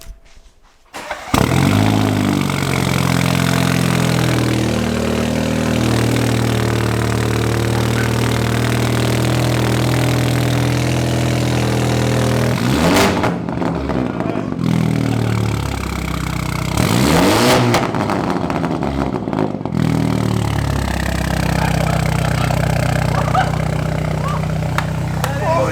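A Toyota A90 Supra with a newly fitted loud exhaust cold-starts with a sharp crack, then settles into a loud, raspy idle close by, broken by two hard throttle blips.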